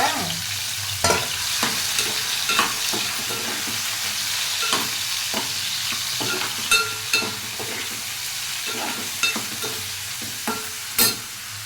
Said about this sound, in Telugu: ఇటు పక్క రొయ్యలు వేస్తున్నానండి ఇటు పక్క కూరను ఉల్లిపాయలు వేసేస్తాను